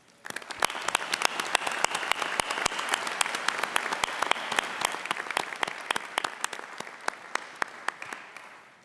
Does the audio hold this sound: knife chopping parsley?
no